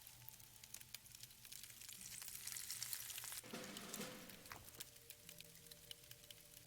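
Cooking a meal over a campfire in the survival game Above Snakes: a steady sizzling, frying hiss runs throughout, swelling in the middle with a brief louder crackle, with faint game ambience underneath.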